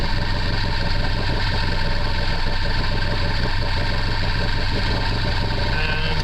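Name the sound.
Bayliner Capri 1802 boat engine at 1200 RPM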